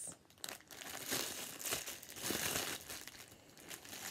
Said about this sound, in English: Sorry for the crinkling, guys.